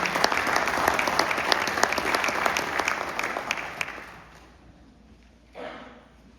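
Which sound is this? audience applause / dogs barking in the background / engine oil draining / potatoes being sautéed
audience applause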